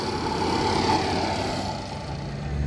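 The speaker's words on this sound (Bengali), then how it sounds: "বোটটা এখন ছাড়বে, দেখো জাস্ট বোটটা ছাড়বে কিরকম লাগছে দেখো" A boat engine running as the boat begins to pull away during Santipur's Annapurna Puja, a steady mid-pitched motor drone that dips slightly partway before building again, close by with no talk.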